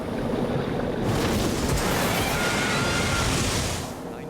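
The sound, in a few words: violent ocean waves crashing on a sailboat on a reef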